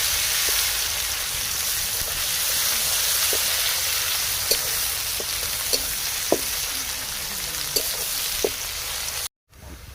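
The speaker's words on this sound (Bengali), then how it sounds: "গরম মশলা দিয়ে দিলাম পেঁয়াজ হালকা ব্রাউন করে ভেজে নেবো" Onions frying in hot oil with garam masala, dry red chillies and bay leaves in a pan for a village-style country chicken curry; a steady, dense sizzle runs throughout with a few soft stirring clicks, then briefly cuts out near the end.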